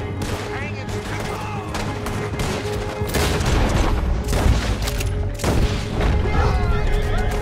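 Gunfire in the video game Red Dead Redemption 2 during a prison break shootout with riders: repeated loud shots and booming bursts over a dense, continuous background of hoofbeats, horse whinnies and clatter.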